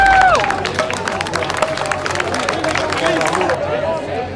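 A street crowd at a Washington, D.C. protest claps and cheers for a homeowner who sheltered protesters overnight, loud applause and crowd noise under close speech.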